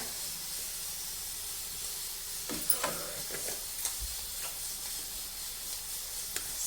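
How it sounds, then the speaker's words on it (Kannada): A pot of greens curry bubbles and hisses steadily, a soft constant simmer with occasional small pops and stirring clinks, close by. "ಇವಾಗ ಚೆನ್ನಾಗಿ ಕುದಿಸೋಣ"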